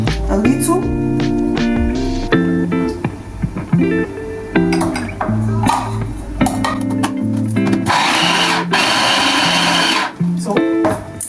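Scotch bonnet peppers and olive oil whir in a food cutter, with a steady motor drone and a louder, rougher grinding burst near the end.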